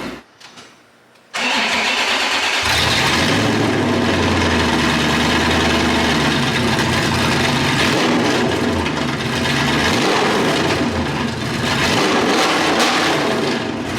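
A Corvette ZR1 engine cranks and fires up with the exhaust open, then runs loud and raw with a rough, throaty rumble that holds steady close by.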